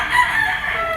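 A large green-legged rooster crowing at a gamefowl auction market, one brief, close, strained call that rises and trails off within a second.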